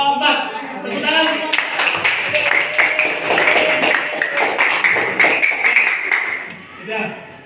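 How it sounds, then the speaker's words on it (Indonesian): A classroom group claps hands together in a dense burst of sharp, overlapping claps that lasts several seconds, fairly close and loud, then fades as a voice speaks near the end. "Tepuk tangan."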